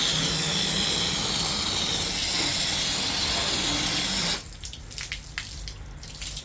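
A water hose sprays onto a ceramic-coated car during a foam shampoo wash, a loud steady hissing rush that cuts off abruptly, leaving faint dripping and splashing behind.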